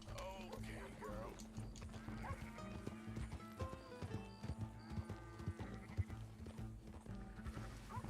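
Horse hooves clip-clop in a steady rhythm in the video game Red Dead, with a horse whinnying and faint voices mixed into the busy background.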